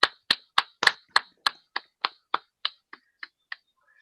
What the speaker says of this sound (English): another huge round of applause for our tellers and poets tonight